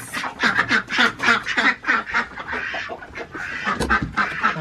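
Ducks released outdoors quack loudly and repeatedly in a rapid, overlapping chorus of nasal calls close by, with no talking.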